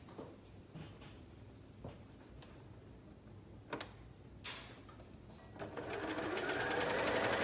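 A sewing machine stitches the short sides of a knit neckband folded right sides together, starting with light ticks and clicks, then running into a steady, loud, continuous whirring drone that builds toward the end.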